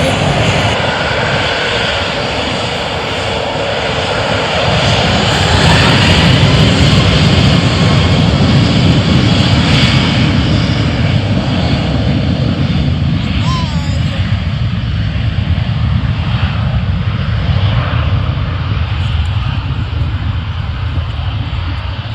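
Porter airplane engines roaring loudly at Ottawa Airport, a sustained, close, heavy engine drone that swells and holds for over twenty seconds.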